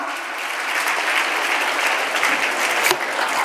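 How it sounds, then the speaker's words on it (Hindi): Loud, sustained applause from an audience at a Children's Day celebration at Arya Kanya Gurukul Senior Secondary School, welcoming the chief guest; dense steady clapping fills the whole stretch without pause. "जोरदार तालियां"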